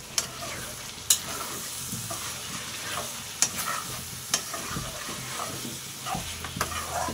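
Ginger garlic paste stirred and fried in oil in a pan gives a steady sizzle, broken by occasional sharp scrapes and knocks of the spoon, close and moderately loud with no voices.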